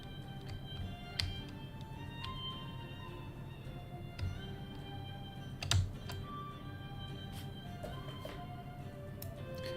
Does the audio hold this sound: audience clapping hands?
no